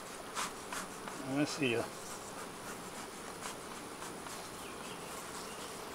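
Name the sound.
angry honey bees buzzing from an opened nuc hive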